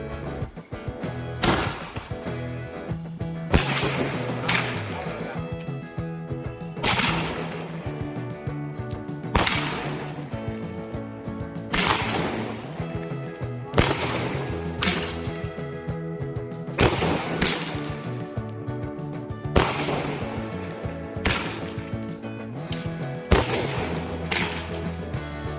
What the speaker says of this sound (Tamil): இந்த வெடியை நம்ம டெஸ்ட் பண்ணி வீடியோ போடுவோம்,